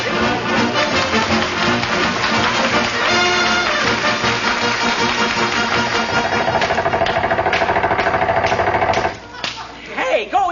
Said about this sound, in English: If she won't, Mrs. McGee, we'll have to use air hammers and chop him loose.